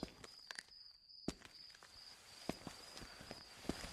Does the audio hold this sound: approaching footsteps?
yes